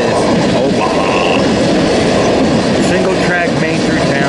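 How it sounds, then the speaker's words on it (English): A BNSF freight train rolls through the small town of Lyons on a single-track main line, a loud continuous close-up roar of wagons and wheels with clattering and brief squeals throughout. "as this train goes through Lyons"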